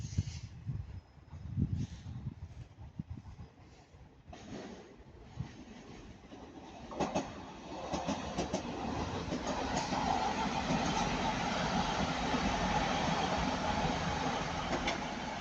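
A Class 185 train passes at Ardwick, first faint with a few distant knocks, then swelling into a steady rolling rumble that holds loud through the second half.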